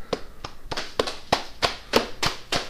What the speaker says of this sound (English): everyone let's hear a round of applause